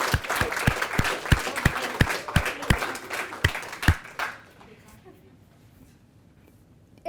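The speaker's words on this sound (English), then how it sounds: "So how about the loudest round of applause for all your families?" Audience at a white coat ceremony claps steadily and loudly for the graduates' families, individual claps distinct, then the applause fades out and goes quiet.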